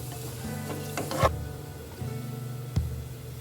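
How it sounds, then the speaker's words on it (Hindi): Cumin seeds sizzle in hot oil in a pan for a spicy methi aloo sabzi, a soft steady crackle broken by a few sharp clicks of a spoon against the pan. "इसके साथ ही मैं यहाँ ज़ीरा भी डाल दूँगी, क्योंकि ऑयल हमारा गर्म था। आवाज़ आ रही होगी आप लोगों को।"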